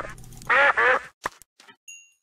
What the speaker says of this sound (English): But that was the sound of disconnection.